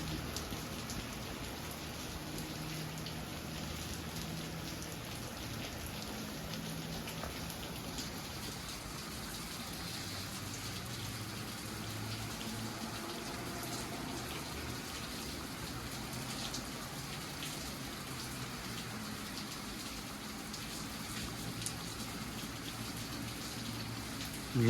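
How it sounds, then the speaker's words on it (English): Heavy morning rain pours down steadily in Pullman, Washington, a dense, even hiss of drops on surfaces with water gushing, continuous and unbroken throughout with no voices. "it's going to rain like this for an hour at least"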